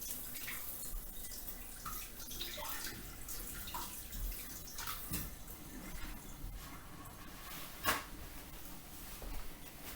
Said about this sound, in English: So I'm gonna wash my hands off.